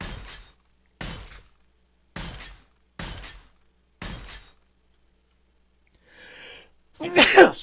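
A single sharp human sneeze bursts out near the end, after a row of five evenly spaced thumps from 7 Days to Die gameplay.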